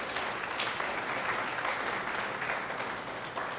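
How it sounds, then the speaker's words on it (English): An audience at a launch event for the NGC Sanfest 2014 arts festival in Trinidad and Tobago applauds steadily, a dense, even wash of clapping from start to finish. "Mr. Torrance Mohammed, let's give him a round of applause, please"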